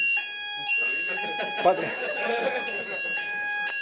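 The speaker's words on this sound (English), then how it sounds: "This is an alarm, which is a test alarm, so don't worry." A test alarm rings with a steady electronic tone through a conference hall during a talk, continuing over the presenters' speech and audience murmur.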